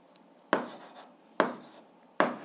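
Pen strokes writing out algebra on paper, three sharp scratchy bursts spaced evenly with short fading tails, close and fairly quiet with no talking.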